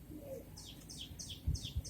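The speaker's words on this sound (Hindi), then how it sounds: "कासनी हुल के कबूतर हैं।" Kasni pigeons, small slender white birds in a Bhopal loft, make soft, faint repeated calls, with a few low thumps close by.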